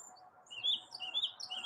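Small birds chirp outdoors in quick, bright, high tweets, spaced in short bursts over a faint background hum, moderately close and with no voices.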